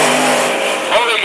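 Sprint car engine at a speedway race, a loud, dense roar close by with continuous broadband crowd and track noise and an announcer speaking over it.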